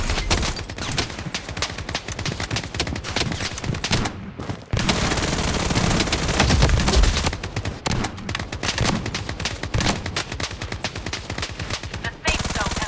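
Defensive turret machine-gun fire in the Blood Strike shooter game, long loud rapid bursts hammering almost continuously with a brief pause, close and dense.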